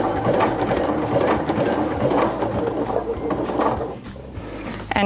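Baby Lock Sashiko sewing machine stitching, a steady close mechanical whir with rhythmic needle chatter running for several seconds before slowing to a stop.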